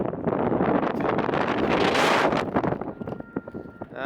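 Strong wind buffets the microphone at Magnetic Hill near Leh, loud rumbling gusts surging and peaking around the middle before easing into choppier bursts, with a faint steady tone near the end.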